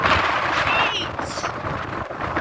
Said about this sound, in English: It's blowing me to the side. It's not as windy over here.